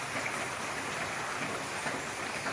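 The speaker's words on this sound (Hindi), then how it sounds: "जंगल में अभी बहुत तेज बारिश हो रही है" Heavy rain in a forest pouring steadily, a dense unbroken hiss with no gaps, fairly faint and even throughout.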